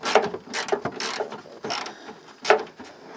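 A wrench clicks and ratchets in quick irregular bursts while a BMW E30 phase 1 front bumper is being removed, close metallic clicks with short pauses between them.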